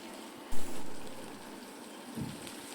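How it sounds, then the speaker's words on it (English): Chilies and curry leaves hit hot oil in a tomato curry tempering, a sudden loud sizzle that swells and then settles into a steady crackling fry, with a small bump of noise later. "Then to this add in chilies and curry leaves."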